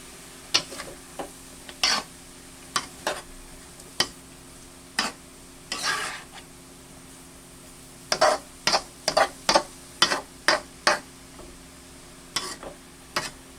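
Curry ampalaya with chicken and black pepper stirred in a pan: a utensil scrapes and clacks in quick uneven strokes, with bursts of knocks under a soft steady sizzle and no talking.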